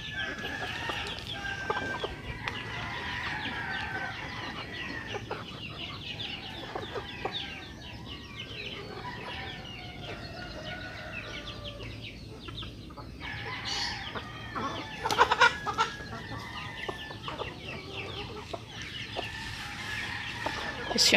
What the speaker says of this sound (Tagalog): Yan yung mga Rhode Island Red